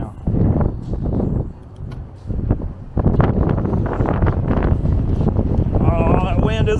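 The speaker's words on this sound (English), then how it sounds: "that wind is aggressive" Strong, gusty Texas wind buffets the microphone outdoors beside a parked car, roaring in loud, uneven bursts with a brief lull, while a person talks over part of it.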